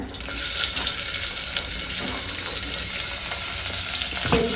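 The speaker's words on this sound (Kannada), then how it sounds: "ಇಲ್ಲಿ ನಾನು ಒಂದು ಈರುಳ್ಳಿ ಕಟ್ ಮಾಡ್ಕೊಂಡಿದ್ದೀನಿ ಹಾಕ್ಕೊಳ್ಳೋಣ" Chopped onion frying in a pan with whole spices such as cumin and fennel, giving a loud, steady sizzle with a watery hiss and a few clattering knocks near the end, with no talking.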